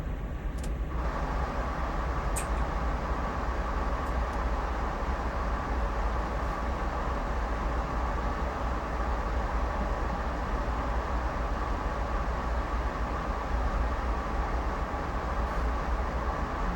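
A CSX heavy haul locomotive engine idling in Train Sim World, a steady low diesel rumble that holds constant and fairly loud throughout, with a few faint clicks on top.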